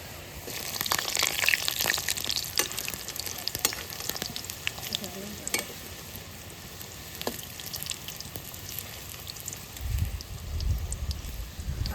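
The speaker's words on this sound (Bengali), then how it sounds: "তেল গরম হয়ে গেছে, এখন রোলগুলো দিয়ে ভেজে নিচ্ছি।" Egg and potato rolls deep-fry in hot oil in a wok, giving a steady, close bubbling sizzle with scattered crackles and pops, and a low clatter toward the end.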